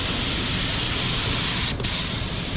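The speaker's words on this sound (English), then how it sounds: "Spray down into that crack a little bit." A DeVilbiss FLG4 spray gun sprays paint in a steady, loud, close hiss that runs without a break, with one brief dip near the end.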